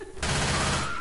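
Loud, sustained burst of gunfire from the video game Left 4 Dead 2, erupting suddenly and holding at full volume as a dense, rattling volley.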